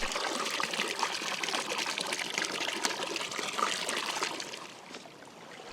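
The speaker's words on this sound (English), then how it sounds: "we add water to the pots and bring it to a boil" Water trickles and pours into cooking pots on a seashore, a soft steady splashing stream that eases off toward the end, with no voices.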